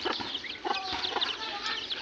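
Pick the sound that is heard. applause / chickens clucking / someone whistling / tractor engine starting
chickens clucking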